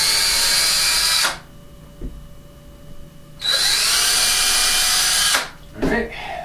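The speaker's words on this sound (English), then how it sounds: "now we're just going to drill the 2 holes for each bracket" A power drill boring starter holes for window shade brackets runs in two long, loud bursts at close range, separated by a quiet pause, with a brief third whir at the end.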